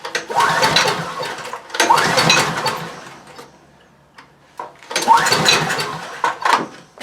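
A Coleman Powermate 6250 generator with a Subaru engine runs far too fast, its loud, rough engine roar rising and falling in long surges with quieter dips between.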